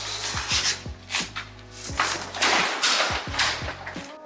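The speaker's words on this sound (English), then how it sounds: "We're gonna cut the excess of the lining." Excess vinyl lining is cut away with repeated rasping, scraping strokes, each a short rough burst over a low steady hum.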